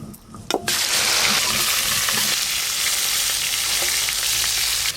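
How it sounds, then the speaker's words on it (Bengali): Climbing perch hit hot oil in a pan and burst into a loud, steady sizzle after a brief clatter, crackling on close and uninterrupted. "এবার কই মাছগুলো ভালো করে ভেজে নেব"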